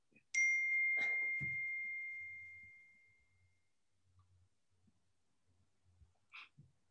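A single electronic video call ringing tone starts abruptly, holds steady, then fades over a couple of seconds, followed by faint soft clicks and quiet background.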